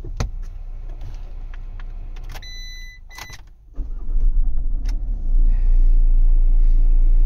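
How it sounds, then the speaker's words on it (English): A 2014 Fiat Doblo started with a programmed spare key: key clicks and dashboard chimes, then the starter cranks and the engine catches into a loud, steady close idle. "Now we'll see if the vehicle starts."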